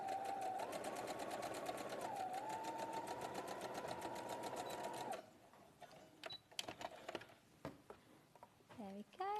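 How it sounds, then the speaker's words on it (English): Sewing machine understitching a skirt, a close steady whirr of stitching that runs for about five seconds, then stops, followed by quieter handling noises and brief talk. "So I'm just going to understitch on here, working from the notches again"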